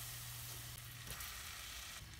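Light butter melts and sizzles in a soup pot, a steady, even crackling hiss that carries on alone without pause.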